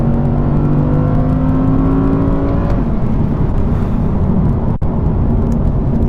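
A 2019 Audi R8 engine revs hard around 5,000 RPM, a loud, sustained, droning roar heard from the cabin with a slightly rising pitch early on and no voices.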